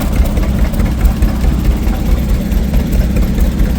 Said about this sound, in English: you can probably hear that A with a straight pipe over this little Oliver 4-cylinder.